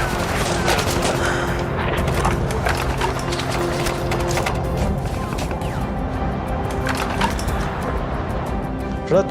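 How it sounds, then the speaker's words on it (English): Dense, sustained gunfire in a Kargil war battle reenactment: continuous rattling bursts and scattered shots, loud and steady throughout over a busy mechanical background. "The enemy kept firing at us"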